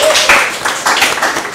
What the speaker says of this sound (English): Please, a big round of applause to all of you.